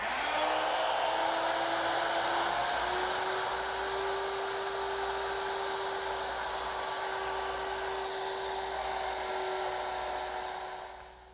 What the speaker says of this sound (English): I've changed the bit to 1/4 inch, and I'll just mortise each of the legs.